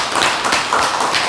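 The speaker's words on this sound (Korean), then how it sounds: "여러분 스스로를 위해서 박수 한번 쳐주시고" A congregation at a Buddhist Sunday family dharma service claps hands together in a short, dense burst of many overlapping claps, close and lively, lasting just over a second.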